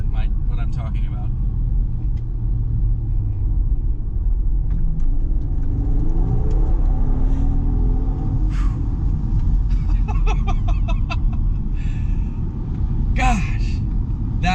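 Inside a Mercedes SL65 AMG under hard acceleration, a deep, heavy rumble of the engine fills the cabin steadily, with a rising tone midway and someone talking intermittently over it.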